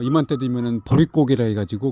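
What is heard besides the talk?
No distinct noise like a dog, phone or traffic.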